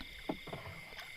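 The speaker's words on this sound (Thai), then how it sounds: "เริ่มได้พายเรือเข้ามานะครับ" Quiet outdoor ambience with a couple of soft watery splashes of a rowboat paddle dipping into water, over a steady insect-like hum.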